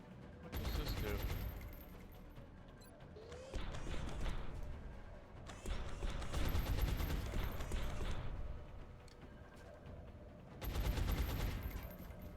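Several loud bursts of rapid gunfire from XCOM: Enemy Within rake a wall, separated by quieter gaps with mechanical clatter between the volleys.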